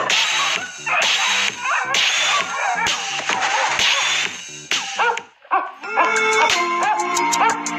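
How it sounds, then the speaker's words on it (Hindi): A cartoon dog in an animated Hindi animal story barks loudly and repeatedly in a quick run of sharp yips, chasing off another dog, with a snappy sound effect near the end. "भोला के भौंकने से वो कुत्ता वहां से भाग गया।"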